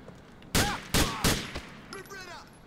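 Three sharp, loud gunshots ring out in quick succession in Grand Theft Auto IV, followed by fainter shots and a short exclamation from a voice.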